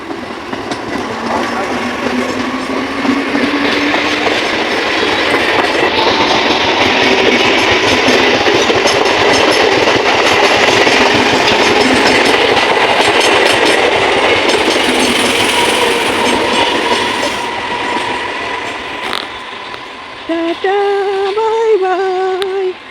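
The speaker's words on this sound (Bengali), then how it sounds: "পুরো ফাঁকা ট্রেন একদম ফাঁকা বগি সব ফাঁকা" A nearly empty passenger train rolls along its rails with a steady, loud rumble and rhythmic clatter filling the whole stretch, joined by a brief rising squeal or horn-like tone near the end.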